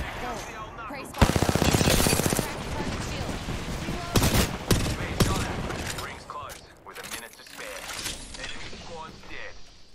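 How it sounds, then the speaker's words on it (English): Gunfire in the video game Apex Legends: rapid automatic bursts and scattered single shots crackle close and loud, with voices talking over the action. "They're shooting at me."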